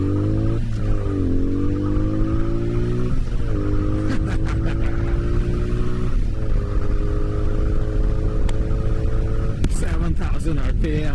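A 1984 Honda Magna VF700C motorcycle accelerating hard through its gears, the loud engine note climbing steadily in pitch with brief dips at each shift, rising again to a high rev; faint wind and road noise run underneath.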